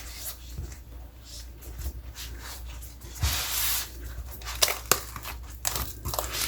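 Stacked taro leaves pressed flat and folded by hand in a kitchen, soft crinkling and rustling close up, with a louder crumpling stretch midway and a few sharp crackles near the end.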